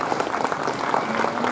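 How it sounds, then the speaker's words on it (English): An audience at a livestock show applauds the judge, a brief burst of steady, fairly close clapping with a faint tonal hum underneath. "let's give our judge, Scott Dean from Lisco, Nebraska, another round of applause."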